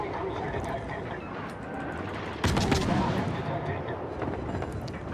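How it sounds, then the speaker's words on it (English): Naval guns fire in World of Warships, with a sharp heavy boom at mid-clip rolling into a sustained rumble, all over constant loud ship engine and battle noise. "This one over here is outside, so we can fire at this one."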